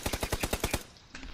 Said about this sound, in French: C'est toi Kepti qui tire là